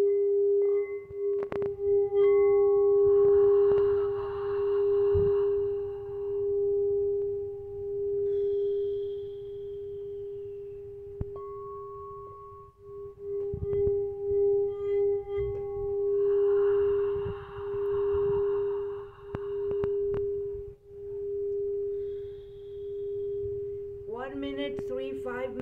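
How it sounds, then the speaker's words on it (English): Crystal Tones alchemy crystal singing bowls resonating, a steady pure sustained tone that swells and pulses slowly in loudness for a long stretch, with soft faint shimmering overtones and occasional light taps. "Crystal Tones, Alchemy Singing Bowls"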